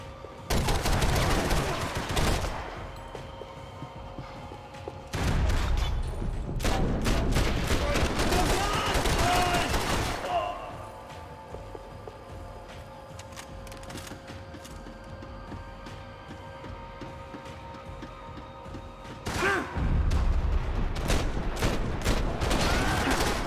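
Gunfire in Max Payne 3, with loud bursts of rapid automatic shots in clusters and sharp single cracks between them, set against steady game ambience and quieter gaps.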